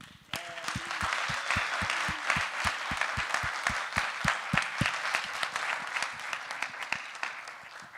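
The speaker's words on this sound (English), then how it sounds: "So let's give a round of applause to Thalita." Steady applause from a crowd at an academic school session on quantum fluids, dense clapping throughout with a few sharper claps standing out.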